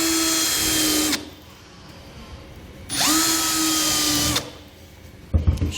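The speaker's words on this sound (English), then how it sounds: "I'm not going to drill all the way through just yet." A power drill bores into a pickup truck bed during an underbed fifth-wheel hitch installation, with two loud, whining bursts of about a second each. The pitch dips and recovers under load, separated by a quiet pause, followed by brief clatter.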